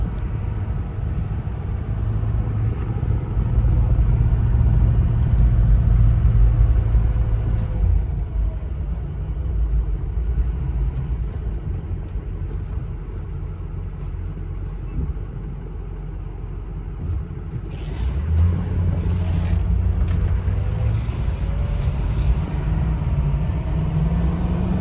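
A 2007 Ford F250 Lariat with the stock 6.0 Powerstroke diesel, driving with a steady low engine rumble and road noise that swells and eases, heard up close and alone without any talk.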